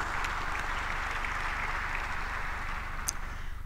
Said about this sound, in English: May we give a clap to this.